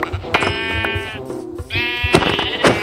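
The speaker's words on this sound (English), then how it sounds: "I need to kill 3 sheep." A Minecraft sheep gives two loud, close, wavering bleats one after the other, with no talk over them.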